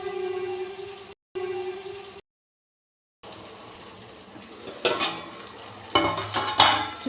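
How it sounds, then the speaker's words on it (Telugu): An okra curry with tamarind is stirred in a pan, producing a low cooking hiss, then after a short silence a string of scraping, clinking spoon strokes against the metal, close and fairly loud. "ఇదంతా కూడా ఇందులో కలిసేలాగా ఒకసారి మొత్తం ఇలా కలుపుకుందాం"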